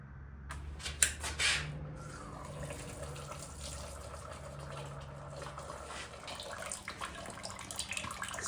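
Fluid drains from a neglected supercharged Ford F100 truck, a quiet continuous trickling pour with a few clunks near the start, faint and steady for several seconds with no talk.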